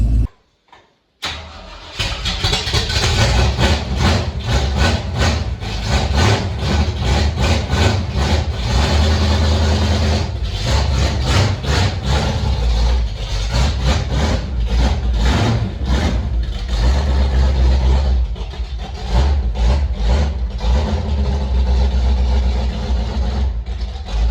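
A low-mileage AMX with the big six-cylinder engine and automatic transmission starts up and runs at a loud, close, rough idle for a long stretch on a cold day, with the rumble pulsing and wavering steadily.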